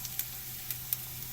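Smoked pork chops frying in a pan give a low steady sizzle with a few faint crackling pops, close and quiet, with no voices.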